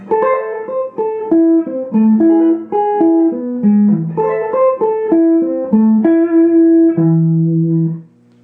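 A guitar plays a flowing arpeggio sequence of plucked notes with quick ornamental grace notes from Paganini's Caprice No. 24, ending on a sustained low E octave that rings out.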